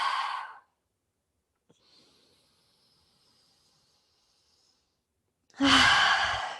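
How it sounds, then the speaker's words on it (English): A person lying inverted in a low-back yoga session takes a big breath out through the mouth, a soft breathy exhale at the start and a louder, longer sigh-like breath at the end, with near silence and a faint high hiss between. "Take a few big breaths out the mouth."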